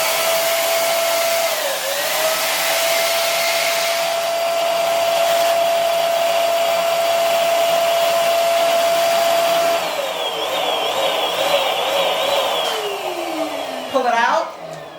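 An electric balloon inflator blows air into a square balloon with a loud, steady whine for about ten seconds, then a shifting, warbling pitch and a short sputter near the end, close up and with no talking.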